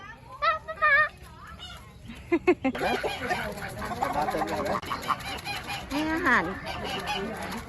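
Chickens at a children's play farm cluck and squawk nearby amid children's chatter and adult talk, with sharp bird calls breaking through the voices.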